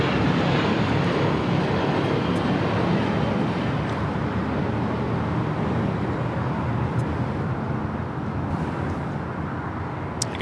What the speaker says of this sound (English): that is Coletta Airflight 935 coming in from Anchorage, 747-400 freighter